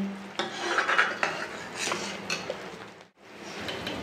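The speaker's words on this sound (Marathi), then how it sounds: "एकदा हे चमच्याच्या साहाय्याने मस्त हलवून घेते" A spoon stirs tomato saar in a pot with finely chopped coriander, giving close, continuous rasping and scraping against the vessel with a few louder clinks, then a brief pause before stirring resumes.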